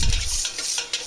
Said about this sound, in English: I'll mix it so it dissolves.